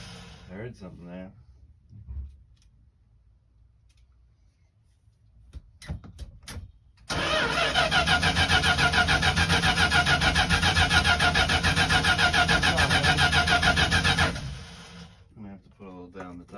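A 1975 Winnebago motorhome engine cranks steadily and loudly for about seven seconds on its first start attempt in years, a rhythmic starter churn that stops without catching; brief speech comes before and after.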